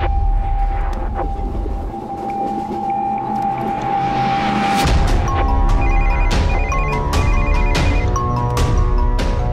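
A telephone rings with repeated electronic tones over a low rumbling background, the rings growing busier and more insistent toward the end.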